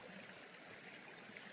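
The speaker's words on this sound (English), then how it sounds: "there's Justice Creek right here. Nice flow, plenty of water" Justice Creek, a mountain stream along the Appalachian Trail, flows with a steady, full rush of water, a continuous broadband babble with no voices.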